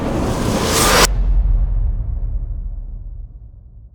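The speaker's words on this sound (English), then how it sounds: "3. Cinematic whoosh reverse." A cinematic reverse whoosh sound effect builds as a bright, airy swell that rises and cuts off sharply at about one second, leaving a deep low rumble that slowly fades away, with no voices.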